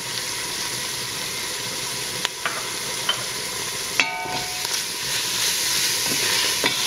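Dry korma spice mix being stirred into a hot pan, a steady close sizzle and hiss with occasional light scrapes and taps of the utensil against the pan.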